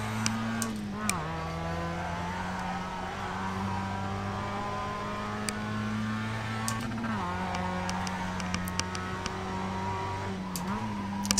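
A Mazda MX-5 racing at Phoenix in iRacing, its engine droning steadily at high revs with a few brief dips and recoveries where gears change or the car lifts off, continuous and fairly loud, with no talk.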